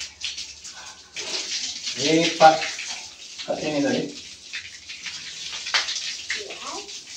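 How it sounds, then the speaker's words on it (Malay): Water sprayed onto a toilet bowl during cleaning, a hissing spray rising and falling in bursts across the clip while a voice speaks briefly in the middle. "Sembur air."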